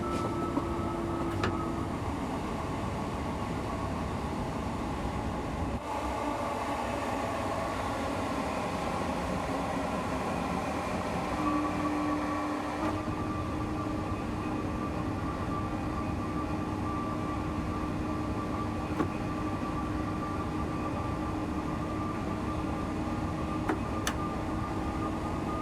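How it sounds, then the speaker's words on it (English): A train from the Train Sim World 6 East Coastway route rolls past in the game, a steady broadband rumble with a low hum that holds for about 25 seconds without any voices. "There goes the train we were driving."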